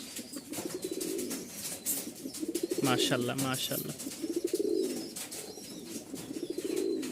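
Fancy pigeons, including a pair of Lahori Serajis, coo in rhythmic rounds close by, with someone speaking briefly over the birds in the middle.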